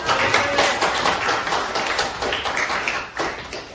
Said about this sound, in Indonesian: Oke, kita boleh tepuk tangan untuk Rafa.